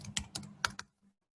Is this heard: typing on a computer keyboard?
yes